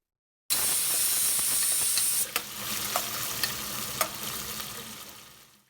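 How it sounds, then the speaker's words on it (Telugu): Tomato pieces frying with browned onions in a pan for pilaf, a loud steady sizzle and hiss that drops to a softer crackle midway, with a few sharp stirring clicks; no voices. "కొంచెం ఫ్రై చేద్దాము."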